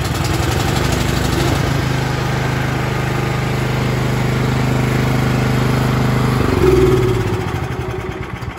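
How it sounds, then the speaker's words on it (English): A Cub Cadet 3X26 snow thrower's engine runs at a steady, close, loud idle, its low throb holding even for several seconds before a brief rise in revs and a slight drop in level near the end. "Gonna give it one pull, and as soon as it starts up, we're gonna take the choke off."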